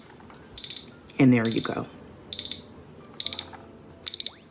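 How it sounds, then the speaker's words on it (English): A writing timer's alarm rings in short repeated bursts of high electronic beeping, four clusters spaced about a second apart, with a person speaking briefly between the first and second bursts. "I want you to hear this timer"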